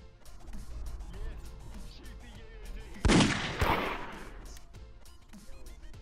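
Gunshots in the VRChat murder game: a single loud, sharp blast followed by a second shot with a decaying tail, heard up close amid players talking.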